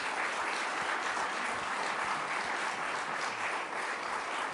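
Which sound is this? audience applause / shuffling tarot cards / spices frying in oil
audience applause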